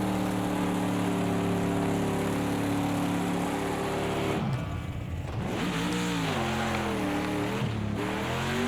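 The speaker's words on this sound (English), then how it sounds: "We are rednecks, and we do burnouts at Daytona." A GTD race car in a Daytona racing video game roars through a burnout, a loud sustained engine whine with a sudden burst of tire-spin noise, then the revs warble up and down unevenly, no talk.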